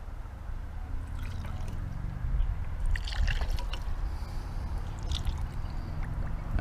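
Automatic transmission fluid pours and trickles into the cylinders of a seized diesel engine in a Mercedes 170D W136, a steady liquid dribbling with brief splashy bursts over a low background rumble.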